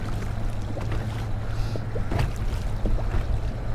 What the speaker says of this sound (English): It's like the wind goes up and goes down, goes up and goes down.